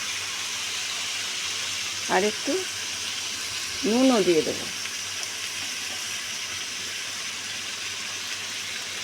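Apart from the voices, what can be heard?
potatoes and onions frying in a pan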